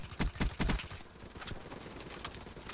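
Gunfire in the Black Ops 3 video game: a quick burst of four or five loud shots in the first second, followed by softer scattered shooting and game noise.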